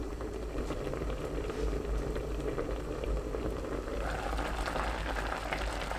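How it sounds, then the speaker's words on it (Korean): Sand lance braise simmering under a lid in a covered pan over medium heat, a steady, dense bubbling and hiss that holds even and unbroken throughout. "뚜껑 닫고 중불로 3분 더 끓입니다"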